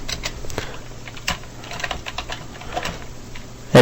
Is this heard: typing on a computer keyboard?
yes